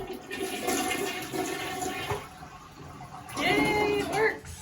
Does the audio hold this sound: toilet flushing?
yes